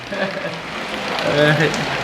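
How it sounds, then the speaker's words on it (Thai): Steady rain falls outdoors as a dense, even hiss that stays fairly loud throughout, with a voice talking over it. "ฝนตกพี่น้องเอ้ย"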